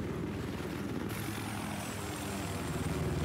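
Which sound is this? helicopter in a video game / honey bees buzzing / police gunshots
helicopter in a video game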